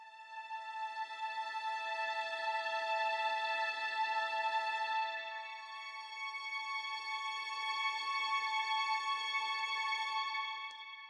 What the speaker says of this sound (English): I'm using this plugin called the Violin Ensemble.